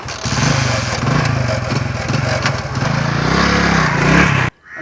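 A motorcycle engine running loud and close with a rapid, rough putter, its revs climbing toward the end before cutting off abruptly into near silence.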